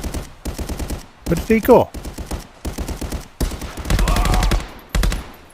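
Rapid bursts of video game gunfire crack out in loud, regular volleys with brief pauses between them, and a voice speaks briefly over the shooting.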